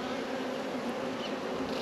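Honey bees hum steadily around a frame of hawthorn honey lifted from a hive with three supers, a dense, even buzz close by with no talking.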